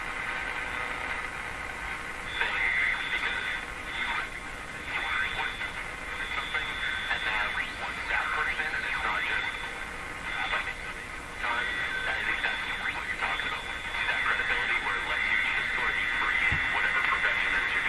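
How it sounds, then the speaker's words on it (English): Faint radio static with wavering tones and whistling whines drifting above a muffled broadcast from a vintage Canadian Westinghouse Model 684 radio, continuous and fairly quiet throughout. "So there's lots of tones and whines in there along with the program."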